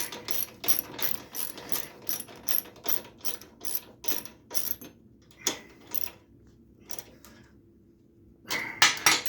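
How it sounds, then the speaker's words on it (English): A quarter-inch drive ratchet tightens a bolt through a 3D-printed bushing on a Cub Cadet mower, making rapid, close clicking bursts in quick strokes, then a few slower, spaced clicks after a pause. "quarter drive ratchet here, and we'll just tighten this up"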